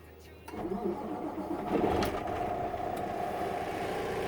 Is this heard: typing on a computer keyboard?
no